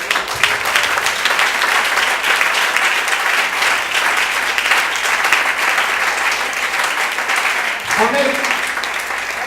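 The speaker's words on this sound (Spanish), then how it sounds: "Dele al Señor un aplauso fuerte." A church congregation applauds loudly and steadily during a Spanish-language sermon, dense clapping filling the space for several seconds while a voice speaks briefly near the end.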